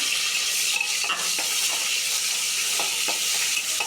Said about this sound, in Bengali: পেঁয়াজগুলোকে হালকা নেড়ে চেড়ে ভেজে নিতে হবে